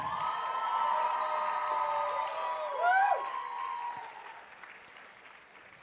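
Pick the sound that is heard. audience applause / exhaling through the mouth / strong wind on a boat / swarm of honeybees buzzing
audience applause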